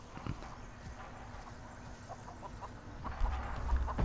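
A chicken clucks in The Texas Chain Saw Massacre video game, with short scattered calls over a murky game ambience that swells louder near the end; nobody speaks.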